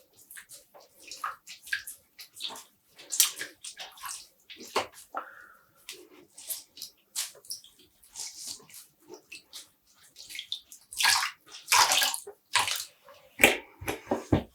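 Dyed yarn is dunked and rinsed in a basin of water, giving bursts of sloshing, splashing and dripping that come and go in irregular splashes, close to the mic with quiet pauses between.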